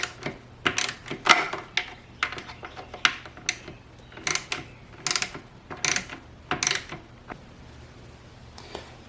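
A ratchet turns screws back into a BMW engine, including a stripped DISA screw, in quick bursts of close, sharp clicking with short pauses between strokes.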